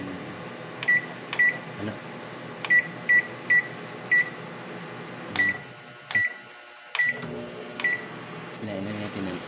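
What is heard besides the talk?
microwave oven keypad beeps while setting the timer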